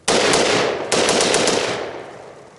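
Rapid rifle fire during a shooting demonstration, a loud close burst of shots that blur together, a short break, then a second burst that trails off into echo.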